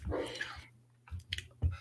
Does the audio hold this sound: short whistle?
no